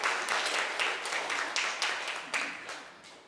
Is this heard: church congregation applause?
yes